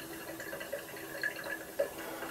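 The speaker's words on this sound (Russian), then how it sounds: "Отбор у нас идет тут покапельно." Distillate drips slowly from a still's dephlegmator, a few faint, separate drops against quiet background hiss.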